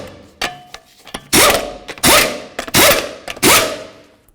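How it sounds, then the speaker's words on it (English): Lug nuts being run down on a Jeep Liberty front wheel, heard as four loud, rattling bursts of an impact wrench about half a second apart, with a few lighter clicks and clanks between them. "start our lug nuts on, and then we'll bottom them out and torque them down to manufacturer specifications."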